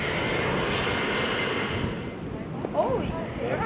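A roaring blowhole among coastal rocks at Shark Bay, rumbling like something breathing from under the ground. A steady, dense rush of air and surf fills the whole stretch, and faint voices come through near the end.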